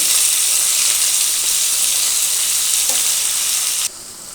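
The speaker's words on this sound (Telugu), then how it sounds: "బాయిల్ చేసుకున్న గోకరకాయ ఇందులో వేసుకోవాలి. వేసుకొని ఒక 5 మినిట్స్ బాగా ఫ్రై చేసుకున్నాము." Boiled cluster beans fry in a hot pan, giving a loud, dense, continuous sizzle close by that drops suddenly in level just before the end.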